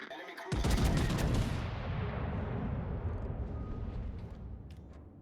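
A heavy naval gun salvo fired from the rear turrets of the German ship Schlieffen in World of Warships: one huge, close blast that rolls into a long, rumbling decay lasting several seconds.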